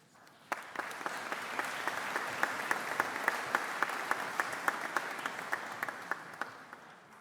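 Audience applause at a graduation ceremony on a university's Chelmsford campus, a steady, dense round of clapping from a large crowd that starts sharply and holds at an even level throughout, with a few sharper individual claps standing out.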